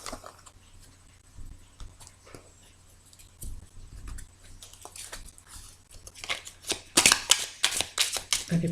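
A deck of cards is cut and shuffled up close, giving a run of soft papery flicks and taps that build into louder riffling bursts near the end, with no talk over it.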